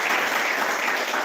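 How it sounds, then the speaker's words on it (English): A dense burst of crowd applause, steady clapping filling the whole moment. "Let's welcome you with a round of applause"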